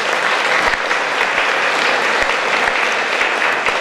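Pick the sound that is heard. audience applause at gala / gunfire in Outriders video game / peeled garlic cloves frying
audience applause at gala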